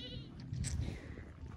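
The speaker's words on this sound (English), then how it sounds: "Goat's out again." A single goat bleats in a wavering, nasal cry, fairly faint and outdoors, with a little background noise around it.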